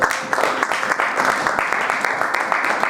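A church congregation at an evangelistic service applauds in a dense, steady wash of clapping that holds at a fairly loud level for a few seconds.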